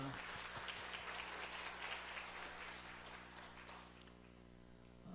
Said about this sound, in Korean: 우리 더욱 영광의 박수를 하나님께 올려드립니다